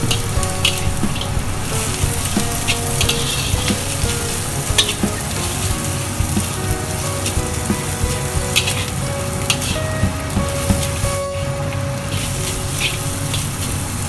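Shredded leftover roasted chicken being stir-fried for Singapore noodles, a loud continuous sizzle with crackling and the scrape of stirring throughout, close and steady with no voices.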